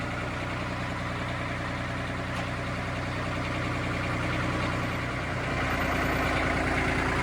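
A John Deere tractor, an early 302, runs at a steady idle up close, its low engine rumble continuous and fairly loud with no talk over it.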